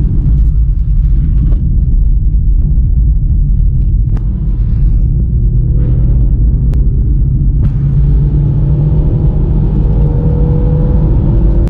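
Interior of a 1998 Vauxhall Corsa B on the move, with a steady loud engine rumble and road noise throughout, rising slightly as it pulls along, with no talking.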